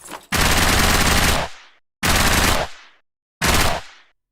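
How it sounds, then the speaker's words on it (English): Three loud, sharp synthetic gunshot sound effects for a zombie video game, each cracking then fading with a short roaring tail, separated by brief silences. "I tried to make a cool gunshot sound"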